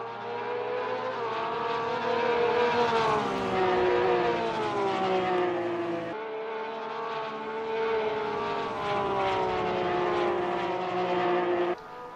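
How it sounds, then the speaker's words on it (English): A Porsche race car engine howls through a hot lap at the Sepang circuit, loud and steady. The pitch climbs smoothly through each gear, and brief dips mark the upshifts. "So Szabo out for his hot lap in the Porsche."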